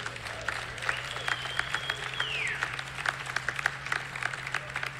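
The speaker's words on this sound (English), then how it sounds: "See, I hardly had to make them clap." Scattered, fairly thin clapping from a graduation audience at a high school commencement ceremony, with individual claps standing out over a steady low hum, lasting the whole stretch.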